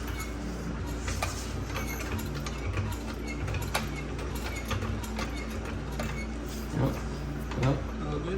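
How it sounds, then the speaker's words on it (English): A jack raising a car's rear axle during suspension work, making steady mechanical ratcheting clicks and creaks close by, with people talking intermittently over it. "Rick, he's gonna jack up the axle until I can fit this bolt back in through this eyelet through the axle mount"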